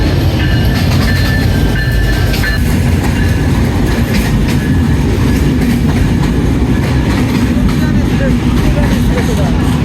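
A long Drutojan Express train from Panchagarh rolls into Santahar station, a loud, close, constant rumble of wheels on rails with faint clicking and metallic squeals, while people talk over the noise.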